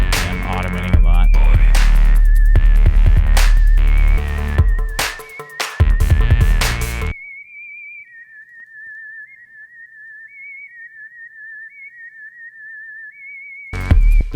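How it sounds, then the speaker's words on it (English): A synthesized whistle from Ableton's Wind Whistler, an Operator FM instrument, carries a wavering melodic line, first over a dense loud music mix, then alone and clear for several seconds before the full track returns. "The whistle is just an Ableton instrument. Wind whistler, which consists of, an operator."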